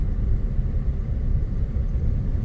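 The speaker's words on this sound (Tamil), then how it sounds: "நமக்கு எதிரில் ஒரு வண்டி வருது" A vehicle on a forest road in the Thalavadi forest, heard as a steady low engine rumble that stays even and fairly close for the whole stretch, with no voices.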